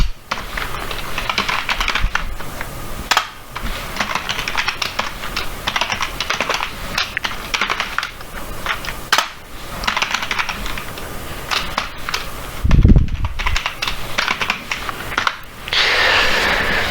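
Python code is typed on a computer keyboard in a steady, dense patter of close key clicks with brief pauses and a heavier knock near the end, with no talking.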